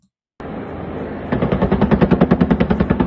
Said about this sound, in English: 18 seconds of Apaches going in and operating in Venezuela, showing intense gunfire and activity here.